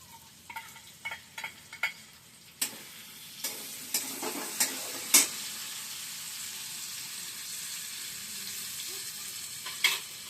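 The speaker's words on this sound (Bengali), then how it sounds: "এইবার আমি প্রথমে কাজু বাদাম বাটাটা দিয়ে দেবো" Cashew paste frying in hot oil in a pan for paneer posto, a steady sizzle with scattered scraping taps from stirring, louder in the opening seconds and then settling into a constant hiss.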